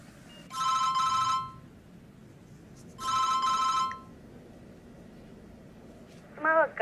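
Electronic telephone ringing in two short, bright trilling bursts a couple of seconds apart, fairly loud over a quiet room hum, then a brief higher chirp at the end.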